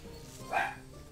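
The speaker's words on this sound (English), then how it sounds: "that's my dog" A dog barks once, a short muffled bark from behind a closed door, rising briefly above a quiet room hum.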